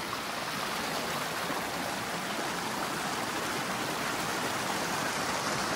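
Steady, dense rush of a waterfall and stream at Khildhar near Dwarahat, a broad continuous hiss of falling and flowing water at moderate level with no voices over it.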